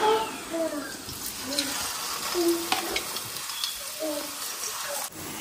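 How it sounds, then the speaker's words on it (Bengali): Chicken cheese kebabs sizzle steadily in hot oil, a dense close crackle with soft stirring clicks and a faint voice murmuring underneath. "এপিট ওপিট আর কি হালকা করে ভেজে নেব"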